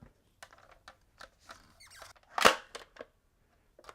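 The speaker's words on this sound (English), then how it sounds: "now I'm gonna reload with some Accustrike darts" Foam Accustrike darts are pushed into a Nerf Mega Tri-Break blaster with a series of soft plastic clicks and taps, then one sharper snap midway, close and quiet with no talking.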